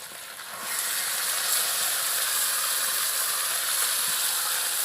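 Marinated chicken hits hot oil in a wok, bursting into a loud, steady hiss of frying that continues evenly without voices.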